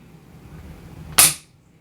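One sharp, loud metallic snap as the striker of a Fusil Gras cavalry carbine falls on an empty chamber during a dry-fire function check. It is close and quickly decays against a quiet room.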